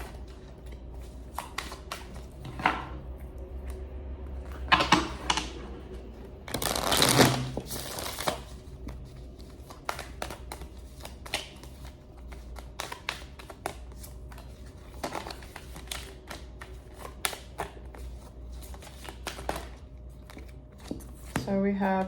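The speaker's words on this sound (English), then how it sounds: "after I shuffle tarot, I'm going to do oracle cards," Tarot cards are shuffled in repeated short riffling and sliding bursts, close and soft, with one louder flurry partway through and a person talking between the shuffles.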